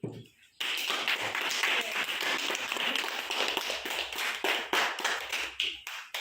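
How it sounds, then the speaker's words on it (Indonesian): Audience applauding at the close of a presentation at a teacher training showcase: a sustained burst of dense hand clapping from a sizable crowd, starting abruptly after a brief quiet moment and continuing steadily throughout. "mari sekali lagi kita memberikan aplaus kepada materi"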